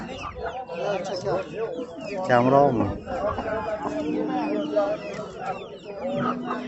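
Roosters cluck and call close by at a busy rooster market, short bursts rising over steady chatter as people talk and bargain nearby.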